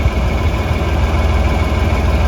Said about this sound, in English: That's the Gale skid loader that I used whenever I was spreading lime a couple videos ago.